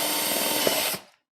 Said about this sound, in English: this allows me to drill holes of different sizes, and I can kind of be careful how I'm doing it